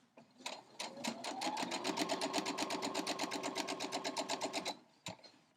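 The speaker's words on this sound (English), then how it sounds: "So we're just sewing corner to corner." A sewing machine chain-pieces quilt blocks for an Entwined Star quilt-as-you-go block, stitching corner to corner in one fast, even run of about four seconds that stops abruptly, followed by a single click.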